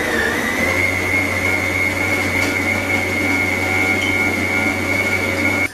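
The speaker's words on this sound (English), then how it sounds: "I'm going to turn the mixer back on and gradually add this a little bit at a time" An electric mixer whirs steadily through cupcake batter, a loud continuous motor drone with a high whine held evenly throughout until it cuts off at the end.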